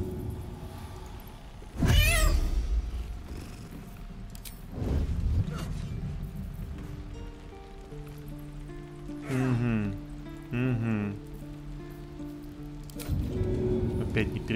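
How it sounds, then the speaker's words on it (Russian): The summoned cat familiar in the video game Baldur's Gate 3 gives several meows, including a long wavering one, amid game background sounds and someone talking. "Кот делает мяу-мяу."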